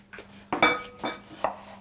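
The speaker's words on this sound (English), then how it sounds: "Give it another chop for me." A child chops food with a kitchen knife on a board while making a tortilla, four sharp knocks with metallic clinks in an uneven rhythm, close and alone.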